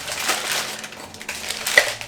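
Drinking glasses clink and knock together as they are unpacked in a kitchen, a run of close, bright taps and rattles with one sharper ring near the end, no talking.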